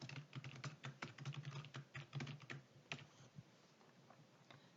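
Fast, light clatter of keys on a computer keyboard, close and clear in a quiet room, with irregular bursts of typing that thin out toward the end.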